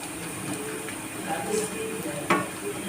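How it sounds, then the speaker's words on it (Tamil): Steady hiss of cardamom, cinnamon and cloves frying in hot oil, with a brief sharper crackle near the end and faint kitchen clatter. "ஏலக்காய் பட்டை கிராம்பு எல்லாம் தாளிக்கிறதுக்குள்ளதெல்லாம் இதிலே போட்டுருவோம்"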